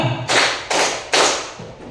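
Three crisp, loud claps from a whole class clapping together in a classroom warm-up, evenly spaced and close, each burst fading before the next, with no voices.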